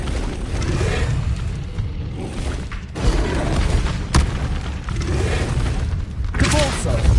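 The Incendio fire spell is cast in Hogwarts Legacy, giving loud fiery whooshes and booming bursts that repeat over several seconds. A voice calls out the spell name.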